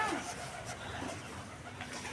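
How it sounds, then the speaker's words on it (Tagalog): Pigeons coo softly on a farm, low murmuring calls mixed with other fowl sounds and faint background noise, no clear speech. "Oy, tapos may kalapati din sila."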